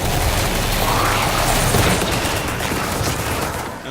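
Dense, loud automatic gunfire from a mimicked turret in the video game Prey, a sustained rattling burst that fades slightly at the end.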